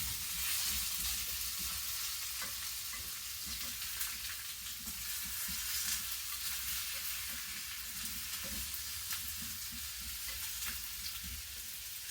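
Sausage and meatballs sizzle steadily in a skillet, a close, even crackling hiss with faint stirring taps throughout and no talk.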